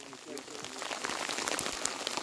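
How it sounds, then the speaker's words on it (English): Hail falling in bad weather outdoors during a horseback moose hunt in the Colorado mountains, a dense spattering patter of small impacts, steady and close, with a voice speaking over it. "We're riding out in some bad weather. Just started hailing."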